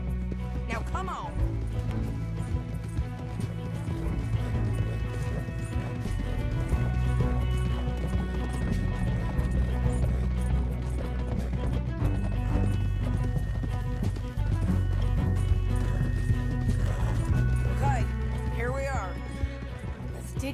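Horses gallop with steady clip-clop hoofbeats in Red Dead Redemption 2, set under a continuous bed of music and game sound, with voices talking over it.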